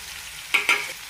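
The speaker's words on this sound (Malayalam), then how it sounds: "ഇനി ഇതിലേക്ക് സവാള ഇടാം കൂടുതൽ ചെറിയ ഉള്ളി അരിഞ്ഞതും" Sliced onion and chopped shallots are stirred in hot oil: a soft background sizzle with two quick scraping stir strokes near the middle.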